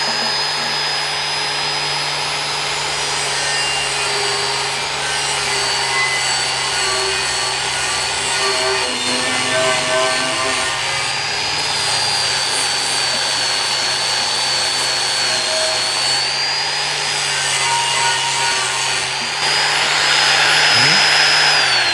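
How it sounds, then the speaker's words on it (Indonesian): Angle grinder fitted with a wire brush scouring a stainless steel pot crusted with thick burnt sausage residue, running as a loud continuous whine with a steady hum and a brief dip in pitch near the end. "Ini kita menggunakan gerinda, jadi dia bahan stainlessnya dia tidak rusak ya"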